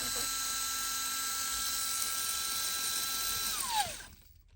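A $20 Amazon plastic gearbox for an RC crawler whirs steadily and quietly at close range, a thin high mechanical whine that winds down and stops near the end.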